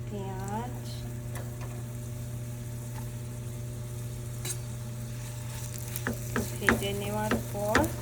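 Green chillies and onion frying in hot mustard oil with a little water; a continuous close sizzle with occasional stirring clinks that grow busier toward the end, and a voice is briefly heard.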